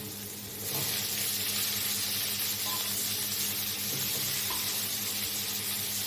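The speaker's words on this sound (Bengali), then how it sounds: "এরপর আমি এতে দেব আলু।" Potatoes tipped into a hot frying pan with cumin powder and salt for sago khichdi, a soft hiss that jumps into a steady sizzle after a moment and holds there.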